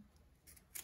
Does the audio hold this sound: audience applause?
no